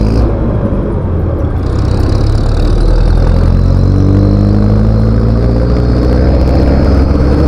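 A Yamaha TMX 125 Alpha motorcycle engine runs loud and close, its note climbing steadily higher after the first couple of seconds as the revs build, with no voices.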